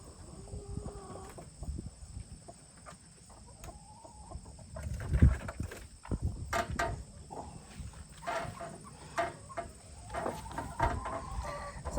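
Two broody hens cluck softly in a coop, low intermittent clucks and short calls that sound fairly close, with rustling and a few louder knocks in between and no talk.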